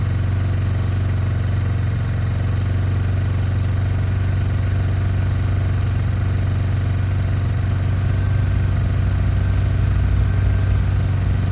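A 2003 Yamaha Big Bear 4x4 ATV engine idles steadily and fairly loud up close, a constant low rumble with an even throb and no break for the whole stretch, and nobody speaks.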